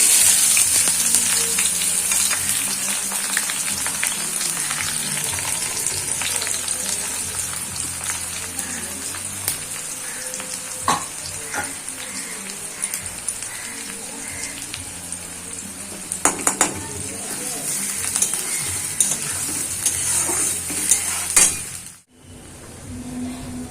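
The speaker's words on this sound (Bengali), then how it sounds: "আমার পেঁয়াজটা ভাজা হয়ে গেছে আলুর দমের জন্য।" Chopped onions fry steadily in a pan of hot oil tempered with bay leaf, dried red chilli and cumin for Bengali aloo dum. A continuous close sizzle with occasional faint clinks runs throughout and cuts off abruptly near the end.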